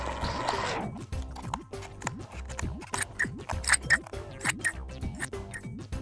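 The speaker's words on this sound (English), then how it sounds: "Now be very careful with your scissors." Scissors snip repeatedly at close range, a run of quick crisp cuts and scratchy slicing sounds, irregular in rhythm.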